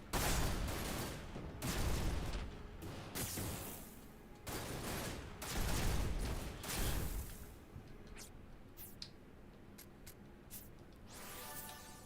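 Gunfire in a video game comes as several ragged bursts of rapid shots with gaps between them, fairly faint overall and thinning out into scattered single cracks toward the end.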